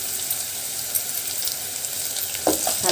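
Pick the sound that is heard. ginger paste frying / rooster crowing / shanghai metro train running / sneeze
ginger paste frying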